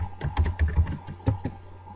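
Fingers tap a computer keyboard in a quick, close run of soft clicking keystrokes with a short pause partway through, over a faint steady hum.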